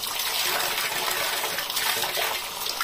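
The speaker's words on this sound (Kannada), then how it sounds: "ಫಸ್ಟಿಗೆ ತೊಳ್ಕೊಳ್ಬೇಕು ಇದನ್ನೆಲ್ಲ." Colocasia roots washed under running water, a loud continuous gush and splash from the tap with small knocks of the roots, and no talk over it.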